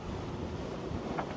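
Steady, rough wind roars across the microphone on a sailboat at sea in about 16 knots of true wind, a continuous dense rush with faint water noise beneath and no voices.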